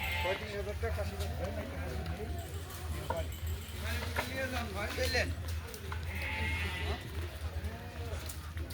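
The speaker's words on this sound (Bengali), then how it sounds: "এগুলো বাচ্চা ছাগল এই যে" Young goats at a livestock seller's farm bleat in short wavering cries, close and frequent, mixed into steady chatter from people talking nearby.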